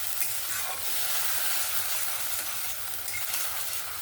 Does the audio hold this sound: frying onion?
yes